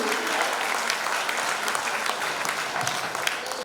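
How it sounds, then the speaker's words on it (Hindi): Audience applause at an Independence Day flag-hoisting gathering, cheering on a young girl after her song: steady, dense clapping from a crowd, sustained evenly for several seconds before cutting off abruptly. "और जोरदार तालियां उसकी हिम्मत अफजाई के लिए"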